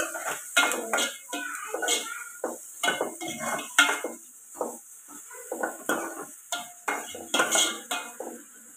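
Onions with curry leaves in a pan for egg curry, stirred with a metal spoon that clinks and scrapes repeatedly against the pan in an uneven rhythm over a faint sizzle, close by.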